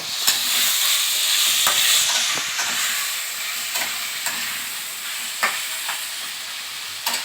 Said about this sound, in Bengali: আর এবার আমি এটাকে ভালো করে নাড়ব